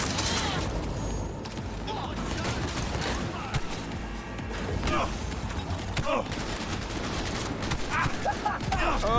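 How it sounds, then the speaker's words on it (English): Rapid gunfire bursts and heavy weapon shots in Cyberpunk 2077, loud and continuous with sharp cracks and booms during a chaotic firefight, someone speaking over parts of it. "Yeah, the guns do sound a lot of powerful"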